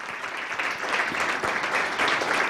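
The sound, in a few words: audience round of applause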